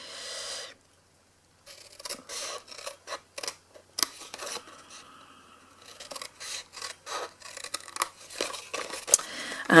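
Scissors snipping notches into card stock for a candle box, a run of short close crisp cuts and rustles spaced irregularly, with a brief quiet gap near the start.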